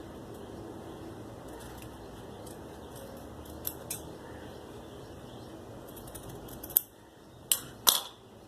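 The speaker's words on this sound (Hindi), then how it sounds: "इसको काट देंगे इस तरीके से" Scissors cut fabric for a neckline pattern, a few sharp close snips near the end after a quiet, faintly hissing stretch without speech.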